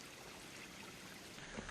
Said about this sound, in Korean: 시원한 물소리와 상쾌한 바람이 가득 느껴지는데요.